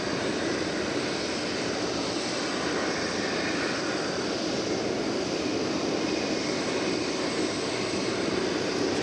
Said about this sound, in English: I'm going to show you here what it looks like when a plane comes in on the 18 left runway here.